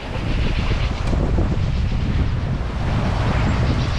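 Strong wind buffets the microphone in a continuous heavy roar while sailing off Sardinia, with a faint wash of waves beneath it.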